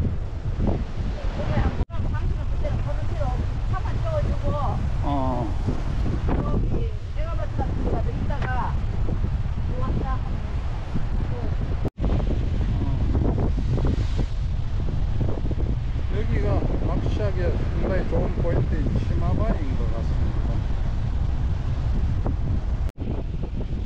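Strong wind buffets the microphone on the Igidae coastal walk as waves crash along the rocky shore, a constant loud roar under someone talking throughout.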